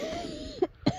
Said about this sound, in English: I haven't been lying about being sick since I keep coughing on you